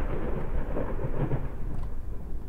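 Thunder rumbles low and continuous during a lightning flash in the horror game Layers of Fear, with a dense, loud roll and a faint hiss of rain, and no voices.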